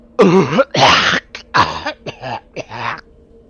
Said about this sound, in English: they seem to cough a bit